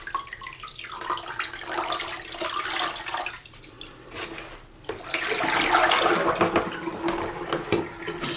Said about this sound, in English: rinsing this fiber